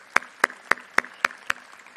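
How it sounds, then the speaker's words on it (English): Six evenly spaced single claps at an awards and scholarship presentation, each a sharp, close slap with clear gaps between them, from one person rather than a full audience. "So give yourself a big round of applause for doing that."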